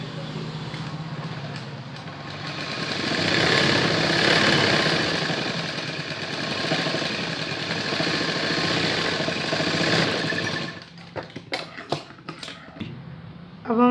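A sewing machine runs in a long continuous whirring hum while stitching fabric for a baby pant, rising and easing in speed, then stops and gives way to a few short clicks and taps.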